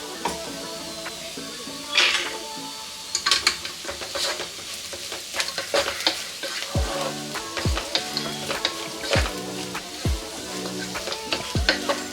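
Cabbage palya with finely grated coconut sizzles steadily in a pan, with repeated scraping strokes of a spatula mixing it through, close and clear with no talking.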